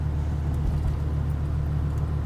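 A 1990 Volkswagen Jetta GTX with a 2-liter 16-valve engine idles steadily, giving a low, even rumble close by with no change in pace and no voices.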